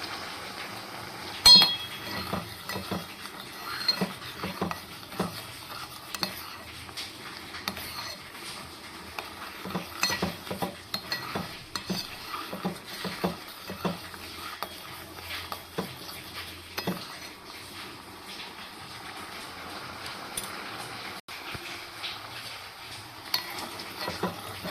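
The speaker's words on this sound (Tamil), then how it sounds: "நல்லா அப்படி கிண்டி விட்டுட்டே இருங்க" Rice porridge for a baby being stirred in a pot, a long stretch of repeated scraping strokes and light clinks of the spoon against metal, close and moderately quiet, no talk.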